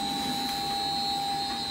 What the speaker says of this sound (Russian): И всю пыль вентилятор выбрасывает на улицу, чтобы помещение было чисто.